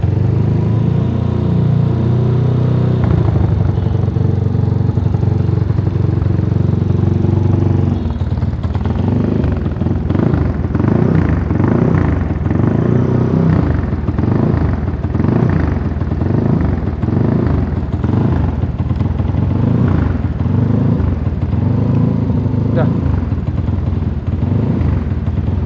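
A Vespa scooter with a 230 cc engine idles loudly at close range, then shifts after a few seconds into a deep, rapid thumping pulse like helicopter rotor chop that holds steady to the end.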